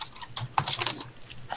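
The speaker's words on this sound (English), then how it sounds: "What are you typing about?" Rapid, uneven clicks of someone typing on a computer keyboard, close and moderately loud, with no voices over it.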